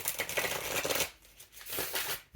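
A brand-new Dust II Onyx tarot deck is shuffled by hand, giving close riffling flutters in a few quick bursts with a short pause between them.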